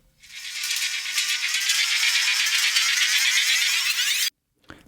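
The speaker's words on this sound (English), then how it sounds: "The sound was basically just pulling the shovel over the floor and" A shovel dragged across a floor, reshaped into a riser, builds as a loud, continuous scraping hiss for about four seconds and cuts off abruptly, with a faint scrape after the break.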